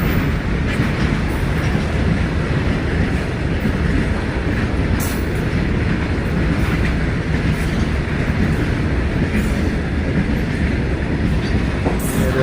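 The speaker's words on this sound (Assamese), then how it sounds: "ট্ৰেইনখন গৈ আছে" A goods train rolls past a rural railway crossing gate, a loud, continuous close rumble of wagons with rhythmic wheel clatter and occasional faint squeals, sustained throughout without talk.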